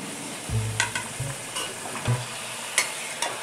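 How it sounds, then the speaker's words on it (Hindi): Cut carrots and green beans stir-fried in a pan, with a soft steady sizzle broken by a few scraping stirs and clinks of a spatula, close and fairly quiet, no talking. "अच्छी तरह इसकी भुनाई करेंगे।"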